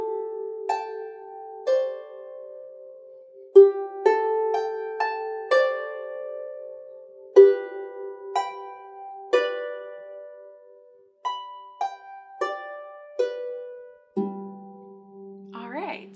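A harp plays a simple beginner song section an octave higher, with bright single plucked notes ringing in a steady, sparse pattern, ending on a lower sustained note.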